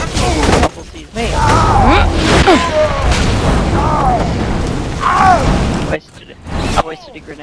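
Grenade blast in Borderlands 2 gameplay, booming low rumble across the scene amid game effects and chirping tones, with a sharp cutoff near the end; people talk over it.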